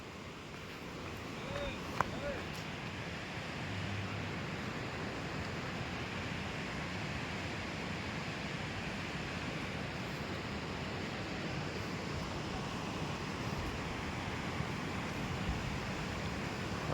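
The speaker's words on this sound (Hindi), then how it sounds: "और देखिए कितना पानी चल रहा है।" Water pours steadily through the Mushakhand Dam at Chakia, Chandauli, a constant broad rushing roar with no pauses, heard at a moderate distance.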